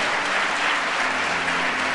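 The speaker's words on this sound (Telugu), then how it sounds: "గట్టిగా చప్పట్లు కొడదాం." Loud, steady applause from a congregation at a sermon, a dense wash of clapping that fills the whole stretch without a break.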